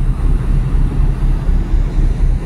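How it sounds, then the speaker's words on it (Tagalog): Ship engine and propeller noise aboard a moving vessel, a steady loud low rumble and drone filling the whole stretch with no talk over it. "Yan, ano ng propeller yan dyan eh."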